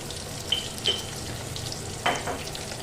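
Potatoes fry in oil on a low gas flame with salt, turmeric and Kashmiri red chilli powder for a mung aloo dum, giving a soft, steady sizzle broken by a few sharp clinks of stirring, fairly quiet and close.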